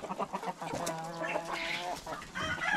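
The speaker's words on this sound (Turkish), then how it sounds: "Şu Icardi çok güzel bir horoz olmuş." A rooster on a farm gives a harmonic, drawn-out call mixed with chickens clucking nearby, several short calls overlapping at moderate loudness.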